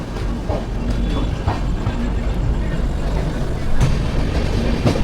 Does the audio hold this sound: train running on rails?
yes